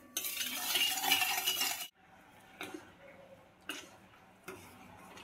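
Sugar dissolving in half a bowl of water for papaya tutti frutti: a loud rushing burst at first, then a few short spoon scrapes and clinks against the bowl with quiet gaps.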